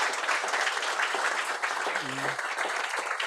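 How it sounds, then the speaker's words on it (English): Demo day audience claps for startup founders after their pitches, a dense, steady round of applause from a full room with a brief voice rising faintly beneath it. "So a round of applause for all of our pioneers who have pitched so far."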